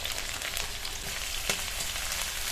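Chopped onion, garlic and green chili dropped into hot oil for a Maggi noodle dish, giving a continuous close, even sizzle with a faint stir partway through.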